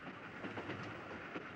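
A train rolls on steadily in a radio drama of the Korean War, a dark, foul-smelling carriage carrying wounded soldiers, its rumble and faint rail clatter forming a continuous, even bed of sound.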